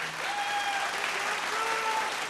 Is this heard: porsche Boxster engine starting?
no